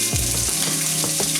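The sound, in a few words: bacon frying in a pan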